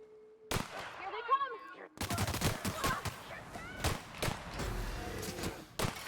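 Handgun shots in The Outer Worlds on Xbox One, a series of sharp, punchy reports with strong recoil, fired in quick bursts after a brief quieter stretch with tonal game sounds.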